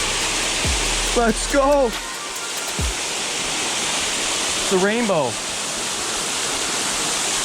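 A backwoods waterfall roars as a loud, constant broadband rush throughout, while people talk briefly over it and short bursts of voice rise above the falling water.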